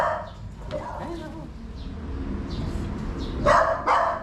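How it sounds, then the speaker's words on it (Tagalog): Angry dogs barking sharply and repeatedly at cobras nearby, with louder bursts toward the end, while people talk over the commotion. "Galit na galit ang mga aso."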